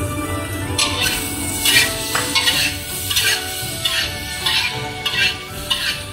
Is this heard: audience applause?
no